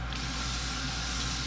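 Grape water sprayed from a 7-ounce aerosol can onto a face gives one steady, close, continuous hissing mist lasting the whole moment.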